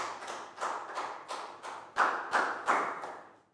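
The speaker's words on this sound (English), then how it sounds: "Big round of applause for Bangpon" Classroom applause for a student in a Year 4 maths lesson, a small group clapping in slow, distinct, rhythmic beats, about ten separate claps, close and clear with no talking.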